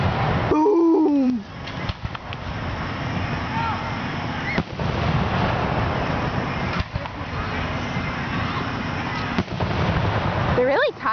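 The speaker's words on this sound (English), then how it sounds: "They're fireworks." Fireworks burst outdoors in repeated loud booms and crackles across the whole stretch, with a whistling rise near the start and people talking and exclaiming between the blasts.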